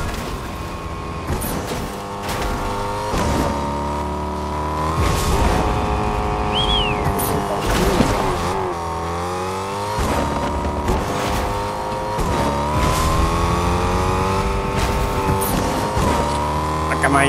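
A car drives in the video game Fortnite with a steady, loud engine drone whose pitch rises and falls as it accelerates and shifts, with occasional tire squeal and continuous talk over it.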